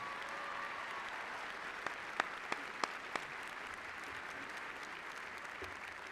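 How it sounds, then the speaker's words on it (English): Audience applause for top graduates at a spring 2016 university commencement ceremony, a steady distant wash of clapping with a few sharper nearby claps standing out. "would you please join me in a round of applause to express our congratulations to these top"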